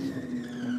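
A voice imitates a Commodore Ute winding up in a burnout, giving a brief, steady, buzzing skid-like tone with no break.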